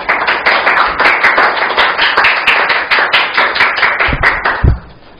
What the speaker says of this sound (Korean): 저희들 큰 환영과 뜨거운 지지의 박수로 맞이하도록